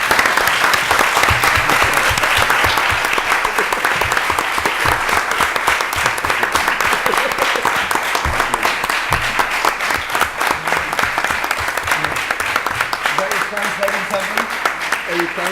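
An audience claps for Terry Gilliam at a press conference, sustained dense applause from a roomful of people holding steady for the whole stretch, with voices occasionally heard beneath it.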